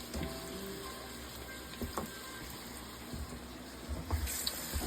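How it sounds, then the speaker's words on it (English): Tap water runs steadily into a pot for cooking rice, a soft continuous gush with faint kitchen clatter and no talking. "We're going to add 6 cups of water because we're going to be making this rice with 3 cups of rice."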